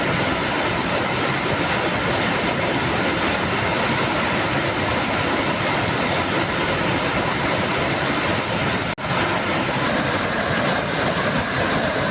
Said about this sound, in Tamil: மணிமுத்தாறு அருவியில் 2வது நாளாக வெள்ளப்பெருக்கு ஏற்பட்டுள்ளது